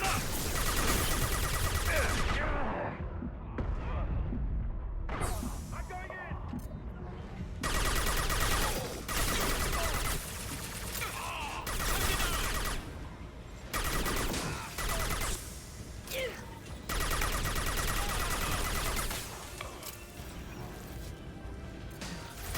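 Loud, dense bursts of Mass Effect 2 gunfire and crashing impacts, nearly continuous, broken by brief lulls.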